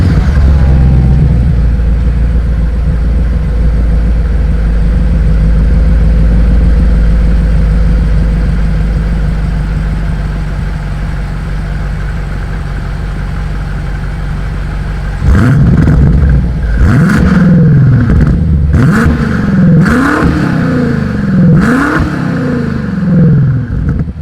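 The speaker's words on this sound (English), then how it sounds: "Here is that 2020 BMW M8 exhaust clip." A 2020 BMW M8 sits idling with a deep, steady exhaust drone before a series of sharp revs rise and fall in quick succession, loud and close, with no voices.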